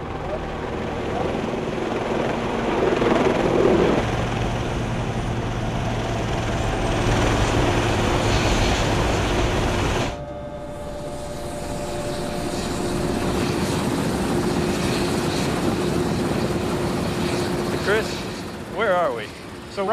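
A steady, loud helicopter rotor and engine drone on a flight to an offshore platform in the Gulf of Mexico fills the whole stretch, changing tone partway through, with a faint voice briefly audible near the end.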